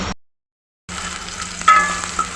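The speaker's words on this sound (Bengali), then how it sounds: "এই যে আমি এখন রান্না করছি মাছের ঝোল।" Rui fish curry sizzles in a pan after the fish and potatoes are fried and cumin, onion and green chilli go in. A brief sizzle cuts out into silence, then returns as a steady frying hiss with a few clinks.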